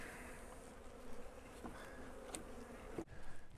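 Bees buzz steadily around a hive being fed fondant in warm winter weather, a faint, continuous droning hum close by with a few brief clicks and a soft thump near the end.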